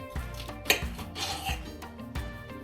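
A knife slicing fresh artichokes into quarters in a home kitchen, with soft chopping knocks and a sharp clink of a blade or bowl, close and fairly quiet, no talking.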